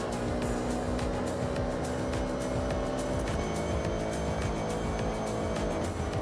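Steady engine drone of a car in the Forza racing video game, continuous and loud throughout with rhythmic revving pulses and no talk.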